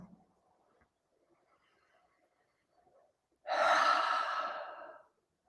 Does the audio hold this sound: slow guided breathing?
yes